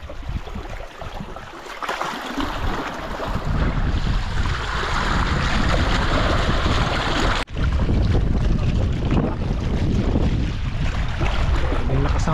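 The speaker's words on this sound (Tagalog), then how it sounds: "May lakas ng hangin mga idol." Strong wind roars over a small fishing boat at sea, a loud continuous buffeting rush with wind noise on the microphone and water sounds beneath, broken by one brief dropout.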